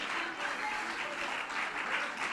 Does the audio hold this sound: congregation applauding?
yes